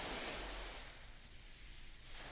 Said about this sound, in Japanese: 波の寄せる音が